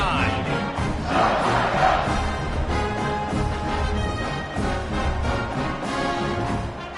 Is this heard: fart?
no